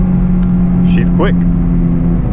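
Chevrolet Camaro RS V6 1LE pulling hard in third gear, a loud steady engine drone close by with a rising harmonic sweep midway, a voice talking over it throughout.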